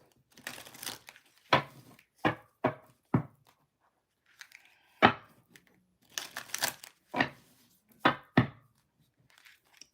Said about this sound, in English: Let me sit here and shuffle these couple of decks.